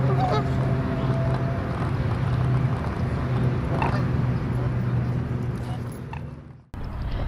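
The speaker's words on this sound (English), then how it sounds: "Canada geese are more than just a noisy presence in urban parks." Canada geese honk in an urban park, a loud nearby flock calling over a constant outdoor rumble, until the sound cuts off abruptly near the end.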